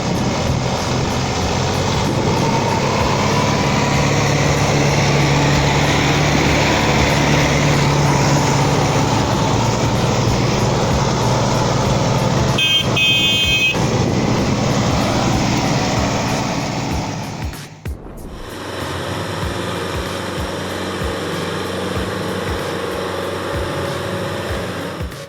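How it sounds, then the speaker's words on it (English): A New Holland tractor with a 6-cylinder diesel engine of about 115 horsepower strains to pull two cabbage-laden trailers through deep mud. The engine drones steadily and loudly for over fifteen seconds, then cuts off abruptly, leaving a quieter background. "Even with a strong 6-cylinder diesel engine, pushing around 115 horsepower, pulling 2 trailers packed with cabbage was too much."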